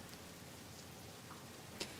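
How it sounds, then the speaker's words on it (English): A light trickle of rain patters faintly and steadily at low volume, with a few sparse drips and one brief tick near the end. "It's a slight trickle of rain."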